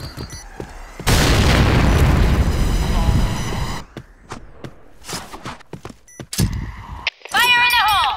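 A grenade explodes in a Point Blank first-person shooter game, a loud, booming burst that rumbles for a few seconds, followed by scattered thuds, clicks and shots from game action.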